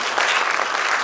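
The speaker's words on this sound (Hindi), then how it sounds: "इन नौजवानों के लिए आप ताली बजाएं।" An audience at a World Hindi Day award ceremony claps for young prize winners, a steady, dense wash of applause filling the hall at even loudness throughout.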